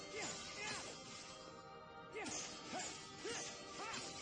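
An object smashed open in the video game Kingdom Hearts Dream Drop Distance: a run of short crashing hits with swooshing effects, several impacts spaced through the clip over a busy game soundtrack, moderately quiet.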